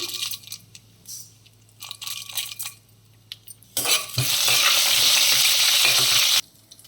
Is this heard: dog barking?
no